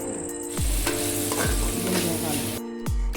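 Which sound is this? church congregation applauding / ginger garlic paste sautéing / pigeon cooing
ginger garlic paste sautéing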